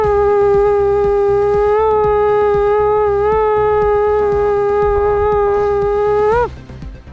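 A mimicry performer imitates a blown conch shell: one long, steady, resonant hum held for about six seconds at even loudness, bending and dropping off sharply at the end, with no talk.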